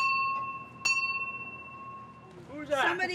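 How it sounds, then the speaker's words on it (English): A doorbell chimes twice with clear ringing tones that fade slowly, followed by a person speaking. "Somebody ringing the bell?"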